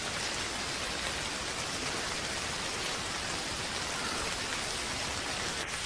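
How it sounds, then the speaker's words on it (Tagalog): Heavy rain falls in a steady, even wash of hissing patter that stays unchanged throughout, moderately soft and with no voices. "Ang lakas ng ulan, bakit di ka sumilong?"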